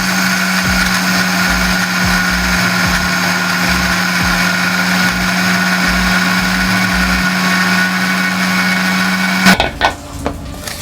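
A kitchen mixer grinder whirs steadily at close range, pulverizing roasted poha flakes with cardamom into powder, a constant loud motor drone with rattling, then stops abruptly near the end, leaving brief clatter.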